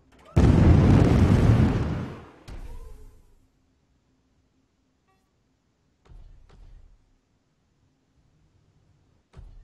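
Bombardment explosions in the video game Heavy Gear Assault: a loud, broad blast rumbling for about two seconds, a smaller burst after it, then quieter thuds and impacts amid near silence.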